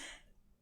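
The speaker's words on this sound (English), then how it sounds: "There's my cough." A single close, sharp cough bursts out at the start and quickly fades into a quiet room.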